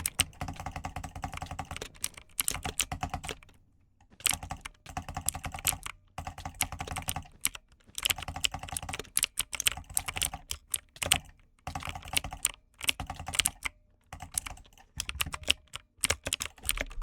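An old computer keyboard is typed on steadily in bursts, each keystroke clacking with a faint springy rattle, close and alone with no talking, in short pauses between runs.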